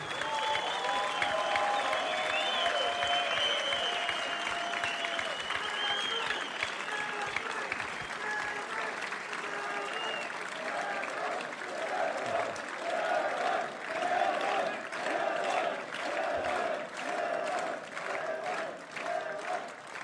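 An arena crowd applauds an arm wrestler from Canada at a professional arm wrestling event, sustained dense clapping with some cheering across a large hall, with a few voices calling out over the continuous applause.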